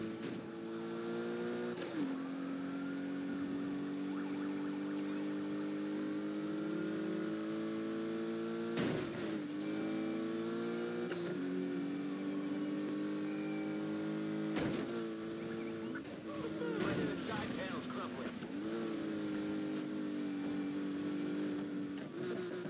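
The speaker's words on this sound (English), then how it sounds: "Just started chasing a Porsche 911." A Porsche 911 engine droning and shifting through gears during a chase in Need for Speed Heat, a steady revving tone stepping up and dropping back, with a few sharp impacts breaking in.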